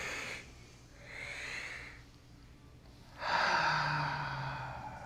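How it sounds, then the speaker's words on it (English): Slow, deep three-part breathing, with two long soft inhales and a louder, fuller breath at the end, close and unhurried with no talking. "I'm doing a 3-part breath."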